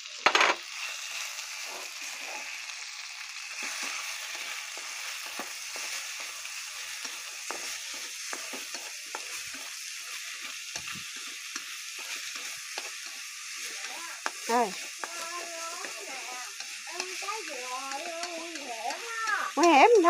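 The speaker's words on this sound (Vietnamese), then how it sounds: "Mình xào bò trước." Beef stir-fried with minced garlic and shallots in hot oil sizzles steadily throughout, with scattered scraping and clinking of a utensil stirring the pan, close and continuous.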